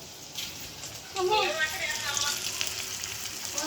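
Small chitti punugulu fritters frying in hot oil, giving a steady bubbling sizzle that rises and stays close throughout, with a voice talking over it.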